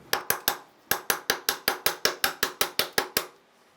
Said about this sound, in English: Give this a couple of taps, see if we can seat and push our axle backwards.